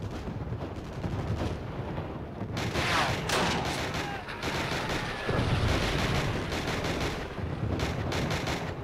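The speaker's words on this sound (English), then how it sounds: "Pick up that rifle and take out those snipers!" Sustained rifle and machine-gun fire rattles through a battle at Nijmegen in Call of Duty: Roads to Victory, dense cracks and booms layered over a constant rumble of combat, with brief voices mixed in.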